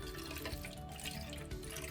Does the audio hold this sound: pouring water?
yes